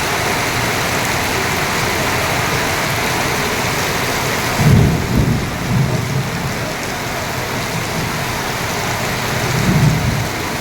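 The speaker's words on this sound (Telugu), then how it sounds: "వర్షం చాలా ఎక్కువ పడుతుందండి. ఉరుములు మెరుపులు, గాలి వాన." A heavy downpour hisses loudly and continuously while thunder rumbles low twice, once midway and again near the end. No voices are heard.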